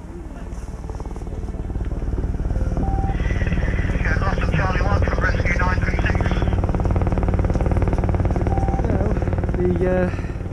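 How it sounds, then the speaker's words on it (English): A rescue helicopter's loud, steady rotor roar holds close by as it lands with a casualty on Snake Pass, with voices faintly audible beneath the engine noise. "Helicopter has just landed with the casualty."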